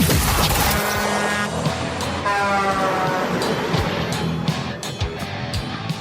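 A loud, rumbling truck engine starts, revs and roars up close, with rising whine and shifting tones, like a big truck firing up and pulling away.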